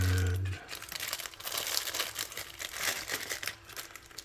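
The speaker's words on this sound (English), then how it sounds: "I'm gonna get this cardboard out of this plastic bag." A plastic bag crinkles and rustles up close as a piece of cardboard packaging is pulled out of it during a fixed-blade knife unboxing, with irregular bursts of crackling and no talking.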